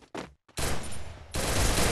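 Gunfire in the mobile game Garena Free Fire, with a couple of short early shots followed by sustained loud bursts of automatic fire.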